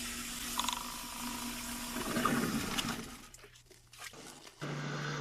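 A sump pump clears water from a flooded crawl space with a gushing, rushing water sound that swells, drops off, then resumes with a steady hum.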